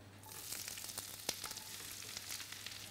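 Sliced red onions frying in butter and a little olive oil in a preheated pan give a steady, close sizzle with soft crackles and one sharp tap partway through.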